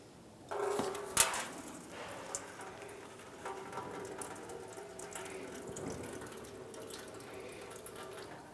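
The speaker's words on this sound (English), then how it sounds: "Now with the drain opened up, we're going to wait till our cooling system is completely drained out" Coolant drains from the radiator of a 2005-2007 Ford Five Hundred into a catch bucket, a steady trickle and splash of liquid heard up close, with a brief sharp metallic clatter near the start.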